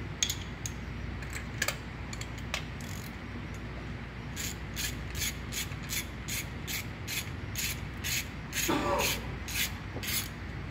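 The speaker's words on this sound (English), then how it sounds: "Next we're going to want to take out the spark plug." A spark plug is removed from a car engine during a compression test setup, with quiet ratcheting clicks in irregular bursts and faint metallic scraping close by.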